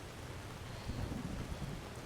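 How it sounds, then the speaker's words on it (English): Dense, even rain hisses across the landscape in Skyrim, with a soft low rumble of thunder swelling briefly in the middle of the steady downpour. "Man, this game likes to rain a lot."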